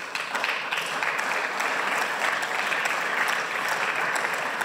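Applause in a parliament session, a dense sustained roar of many hands clapping together, loud and even throughout with no voices over it.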